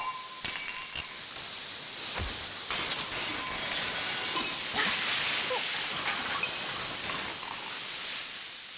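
A pressure cooker in a home kitchen vents steam with a continuous loud hiss, joined by scattered clinks and knocks of utensils.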